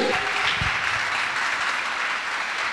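A church crowd bursts into steady, dense applause acclaiming Jesus, loud and continuous clapping throughout.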